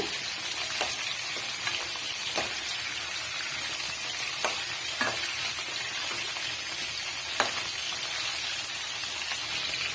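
Eggplant frying in oil for a wedding-style brinjal gravy served with biryani, a continuous crackling sizzle punctuated by occasional stirring scrapes and sharp pops, close and steady with no voices.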